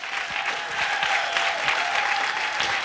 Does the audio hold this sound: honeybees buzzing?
no